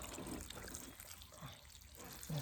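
Water trickles and pours onto garden soil to soak freshly sown kale seeds, a faint, steady wet splashing with a few louder spurts near the end.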